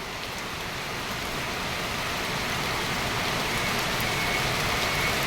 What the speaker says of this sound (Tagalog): ang ulan ay pabugso-bugso no, pabalik-balik sapagkat nga ay may bagyo